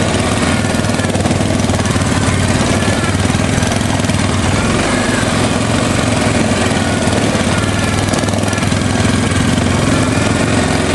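A Honda 350 quad's engine runs loud and steady throughout, a constant close mechanical drone without pauses, heard while out riding.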